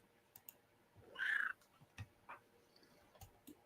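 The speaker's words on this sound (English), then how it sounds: "What a chatty cat. She is a chatty cat." A house cat gives a single short meow indoors, close and moderately loud, against a quiet background with a few faint clicks and no talking.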